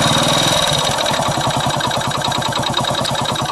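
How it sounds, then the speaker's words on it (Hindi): A Hero HF Deluxe motorcycle engine with a rough, rattling running fault after a half-engine rebuild idles close by, giving a loud, steady stream of rapid low thumping pulses with no talking. "तो फाइनली हमने बाइक यानी कि स्टार्ट कर दिया है, और आप इसकी इंजन की साउंड सुने"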